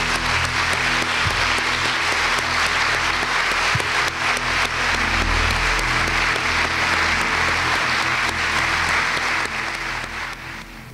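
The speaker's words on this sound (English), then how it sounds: "Let me give you a round of applause." A large crowd of students and guests applauds a first-year student at a university welcome event, with loud, dense clapping that holds steady for several seconds before starting to fade at the end.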